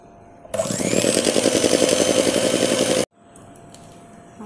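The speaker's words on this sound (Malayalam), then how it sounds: "ഇനി കുറച്ചുകൂടെ അടിച്ചു കഴിഞ്ഞാൽ നല്ലതാവും." An electric mixer beats butter for a butter cake, a loud steady whirring motor running for about two and a half seconds before cutting off abruptly, close up.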